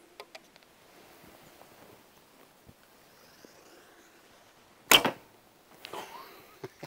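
Arrow loosed from an Alibow Tang Chang An II carbon-core bow with a shallow hook: one sharp, brief release snap followed by a short rustle, set in a quiet outdoor background.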